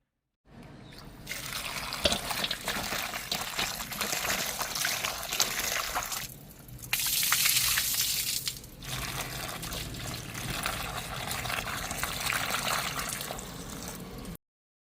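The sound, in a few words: washing brinjals in water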